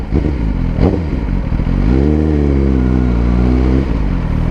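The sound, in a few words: Suzuki GSX-R1000 (Gixxer 1000) motorcycle engine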